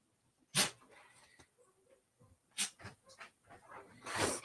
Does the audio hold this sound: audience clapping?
no